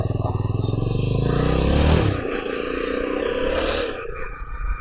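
A Jawa 42 FJ motorcycle engine throbs steadily while being ridden, heard close and loud, with a shift in engine note midway as the rider changes speed.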